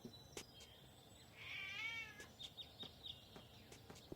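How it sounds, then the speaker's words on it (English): A black cat meows once in Gabriel Knight 3, a clear, drawn-out cry standing alone over quiet game ambience with a few faint ticks around it. "A black cat."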